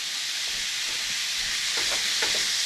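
Ground meat with onions and garlic sautés in a pan for moussaka, producing a bright, steady hiss of sizzling with a few soft scraping stirs near the end, close and alone.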